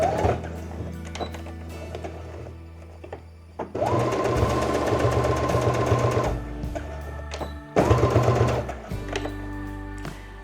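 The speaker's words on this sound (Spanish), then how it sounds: "Tenemos que cerrar esa abertura con una costura recta" A sewing machine runs a straight seam on a blouse in two loud, steady bursts of rapid stitching, with quieter handling noises before, between and after the runs.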